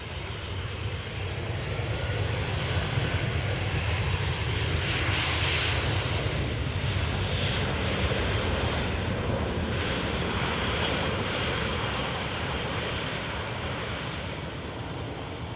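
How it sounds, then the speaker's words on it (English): An Iberia Express airliner arriving from Madrid at Amsterdam Schiphol roars steadily and loudly with broadband jet engine noise that swells and holds throughout, with no voices. "our next airplane has arrived in the meantime. Iberia Express arriving from Madrid"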